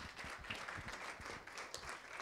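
Steady, faint applause from an audience at a morning Q&A event, a dense patter of clapping sustained evenly throughout without a voice over it.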